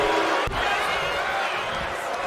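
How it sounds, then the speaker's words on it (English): A wrestling arena crowd at an LCW event roars in a steady, dense wash of cheering and shouting that holds at full strength the whole time, with a brief thud near the start. "This crowd is just going ape sugar."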